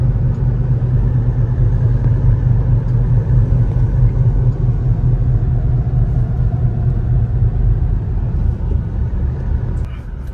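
A Mitsubishi Montero with 82,000 on the odometer driving on the road, giving an even low engine and road rumble from inside the cabin that eases slightly near the end.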